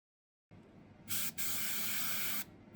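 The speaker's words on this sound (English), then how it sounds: "applying this with my airbrush" An airbrush sprays NATO black paint onto a Hobby Boss Jackal model wheel tire in a steady loud hiss lasting just over a second. A brief pause breaks the hiss before it resumes, following a quiet airy lead-in.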